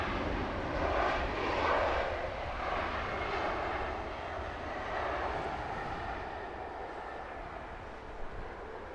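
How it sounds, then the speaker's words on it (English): Airliner banking on departure from London Heathrow, a steady jet engine roar that is strongest early and slowly fades as it recedes into the distance. "Another beautiful banking departure."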